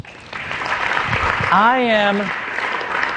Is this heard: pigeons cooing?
no